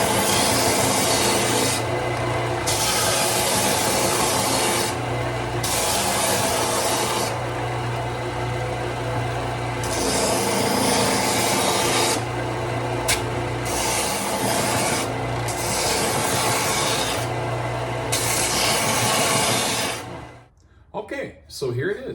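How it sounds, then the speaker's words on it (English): A belt sander grinds steadily on a wooden turtle box, a loud continuous abrasive roar that rises and dips with pressure for about twenty seconds before cutting off abruptly. "So here's my trusty belt sander. I'm going to turn it on, and we're going to take this down."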